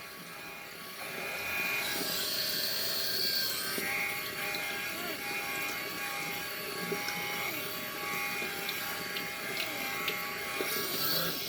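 A Philips Norelco electric shaver runs steadily for the whole stretch, giving a continuous close buzz with slight shifts as it moves over stubble after a wet lather of Barbasol, with no talk over it.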